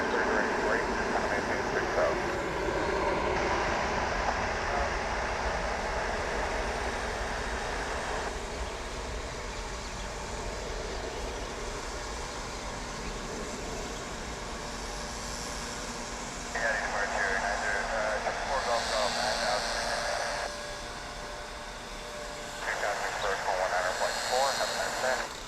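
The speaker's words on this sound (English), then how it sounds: "So it looks like this 757 is going to turn and burn." Boeing 757 airliner at DFW airport turning on the runway and spooling up for takeoff, a steady broad engine roar that swells at times, heard at a distance with talk and radio chatter over it.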